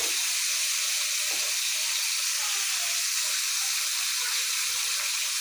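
Tomatoes added to a pan of fried onion and salt, giving a constant loud hiss like steam or sizzling that holds evenly from start to finish, with no other sounds standing out.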